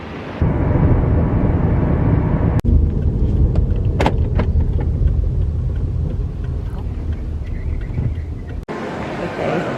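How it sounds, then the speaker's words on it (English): Steady road rumble and engine drone fill the cabin of a taxi heading to a Cancun resort, with faint speech and a couple of brief clicks along the way. "I think it's literally just the taxi to here."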